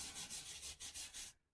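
Sanding a Spalted Paul wooden guitar build by hand, close rhythmic rasping strokes, about six back-and-forth passes, stopping abruptly into quiet.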